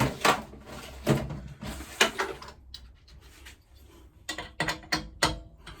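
A socket wrench ratchets in uneven bursts of clicks and knocks while an Ingersoll Rand 50-litre air compressor is repaired. Each burst is close and fairly loud, with short pauses between them.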